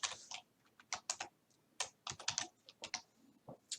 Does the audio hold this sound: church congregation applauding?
no